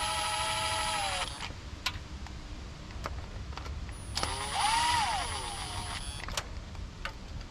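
A power tool whirs in short bursts while running down oil pump bolts on a GM 5.3L engine, two close whines with a pitch bend, separated by clicks and quiet pauses.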